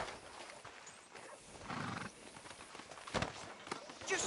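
A horse in the video game Red Dead Redemption 2 shuffles and clops faintly, with a soft snort or whinny and light footsteps, all quiet and close.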